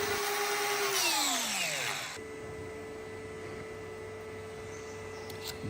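Power grinder running steadily while preparing a block for cow hoof trimming, a loud whine that drops sharply in pitch as it winds down, then a lower steady hum continues.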